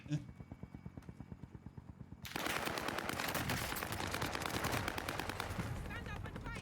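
Rapid automatic bursts from a KG M40 rifle in Call of Duty, evenly spaced shots at first, then a louder, denser stretch of sustained firing mixed with other battle noise, with a voice talking underneath.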